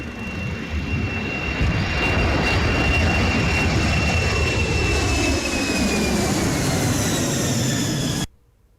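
A special aircraft, fixed-wing and decorated with cheetah paintings, sent to Namibia to fly cheetahs to India, roars loudly with steady jet engine noise and a shifting whine before cutting off abruptly near the end.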